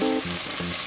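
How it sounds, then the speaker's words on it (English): Green peas paratha (matar ka paratha) frying on a pan over medium flame, giving a steady broadband sizzle with soft low thumps, close and moderately loud, no talking. "They need to cook more for about 5 minutes at medium flame."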